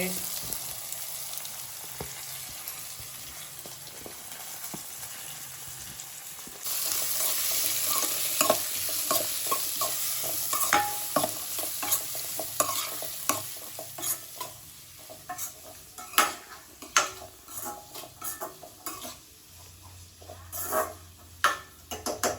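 Masala being sautéed in oil for chicken curry: a continuous sizzle with frequent scraping stirs and clinks of the spoon against the pan, the frying swelling louder partway through, with no talk.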